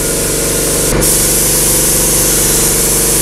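A spray gun hisses steadily and loudly at close range while painting a vehicle blue, one continuous spray with a brief break near the start.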